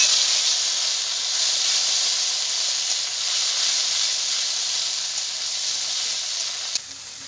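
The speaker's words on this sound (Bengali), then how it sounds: "এবারে বাটা মশলাটা দিয়ে দেবো।" Ground spice paste hits hot oil seasoned with dried red chillies and five-spice for a mango and okra curry, giving a loud, steady, close hiss of sizzling that holds evenly and then drops off abruptly near the end.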